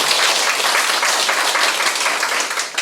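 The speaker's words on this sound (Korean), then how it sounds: "박수 한번 해주십시오." Loud, dense audience applause fills a lecture hall, a steady wash of many hands clapping close by for a couple of seconds, with no voices over it.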